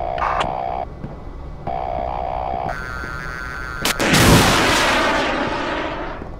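Combat in the video game Project Reality: beeping tones and electronic effects, then a sharp loud blast followed by a long rumbling explosion decay.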